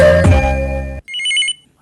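A telephone rings for a radio call-in show at Akashvani Chhindwara. A loud tonal sound is followed by a short, bright trilling ring burst, then silence.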